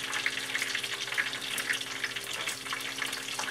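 Ravioli fries in hot oil, a steady dense crackling sizzle that carries on evenly throughout, close and fairly loud, with no voices.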